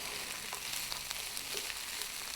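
A pan seasoned with black pepper sizzles steadily outdoors while being stirred occasionally, giving a soft, continuous frying hiss with faint scraping ticks, fairly quiet and free of speech.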